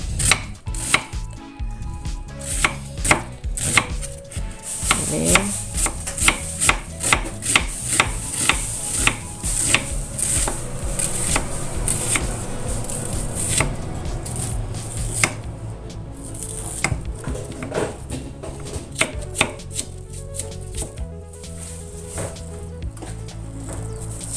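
A knife slicing an onion on a cutting board in a fast run of crisp, evenly spaced chops that slows and softens toward the end, close and without talk.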